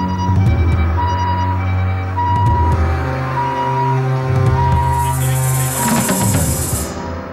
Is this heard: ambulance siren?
yes